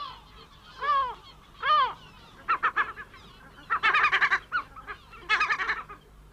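Lesser black-backed and herring gulls call from a British seabird colony, giving two drawn-out wails followed by bursts of rapid, laughing yelps, clear and fairly close against a faint background.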